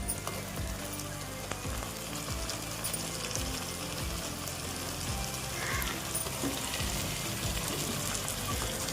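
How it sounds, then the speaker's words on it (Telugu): Onions frying in a pan, a steady dense sizzle and crackle that runs loud and unbroken throughout. "ఇప్పుడు ఉల్లిపాయలు ఫ్రై అయిపోయి ఇందులో వేసేస్తాను"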